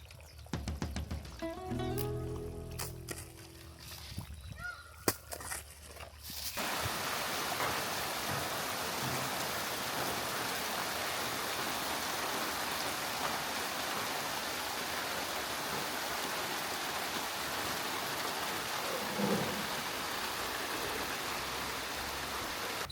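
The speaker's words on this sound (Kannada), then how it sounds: "ಮಳೆ ಜೋರಾಯ್ತು ಅಣ್ಣ" Heavy rain pours down on a farm, beginning as a few brief clattering sounds and then settling into a dense, steady hiss that lasts to the end.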